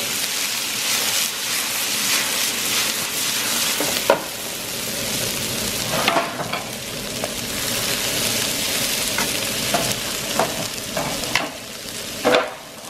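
Green beans frying in a hot pan with oil, a steady dense sizzle running throughout, punctuated by scraping clicks of stirring near the end; no voices.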